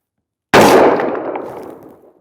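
A single loud, close gunshot from Atomic Ammo 77 grain tactical law enforcement match ammunition cracks sharply, then a ringing tail fades away over about a second and a half.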